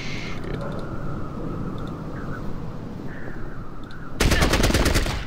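Gunfire from the video game Fallout Tactics: scattered single shots over a steady background, then a loud, rapid machine-gun burst near the end.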